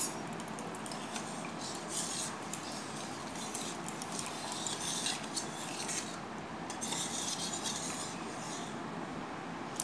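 Salt and sugar being stirred into water for homemade Limca, a continuous close scraping and rubbing with light ticking clinks, steady for several seconds.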